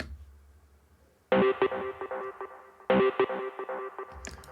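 Two repeated synth lead phrases of bright, harmonically rich stabbed notes, each about one and a half seconds, with a short pause between and no voices.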